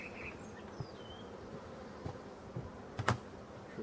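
A honeybee colony hums softly on a frame lifted from the hive, a low steady drone with a few passing insects near the mic and brief clicks and knocks from handling the frame.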